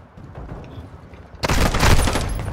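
A video game gun abruptly opens up in a loud, sustained burst of rapid automatic fire after a quiet opening, the shots blending into a dense, rattling volley that continues to the end.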